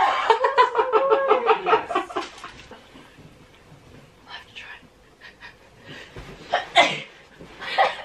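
A loud sneeze bursts out at the start, followed by quiet breathy sounds and a few soft, scattered noises.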